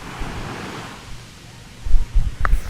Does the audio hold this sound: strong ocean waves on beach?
yes